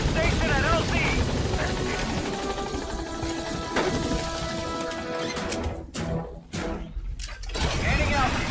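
The Pequod helicopter in Metal Gear Solid V: The Phantom Pain arriving at a landing zone, a loud, steady rotor thrum and engine whine filling the whole stretch, with voices over it and a brief dip near the end.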